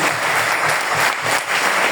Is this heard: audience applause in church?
yes